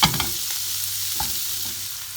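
Sausage fries in a hot pan with a steady sizzle, a continuous crackling hiss with a few light stirring clicks near the start.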